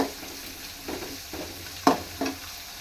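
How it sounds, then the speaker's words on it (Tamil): Onion, dried chilli and garlic sautéing in a pan, a soft low sizzle broken by several distinct stirring scrapes and clicks from a utensil, close by with no voices. "வெங்காயம் ஒரே ஒரு வெங்காயம் போட்டிருக்கேன். இது கொஞ்சம் வதங்கட்டும்."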